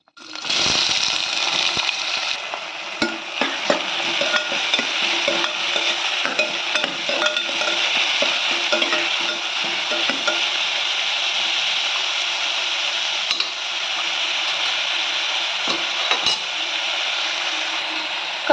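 Onion hitting hot oil with bay leaf, cinnamon, cloves and cardamom for channa masala, a loud sudden sizzle that settles into a continuous close frying hiss with scattered pops and stirring scrapes.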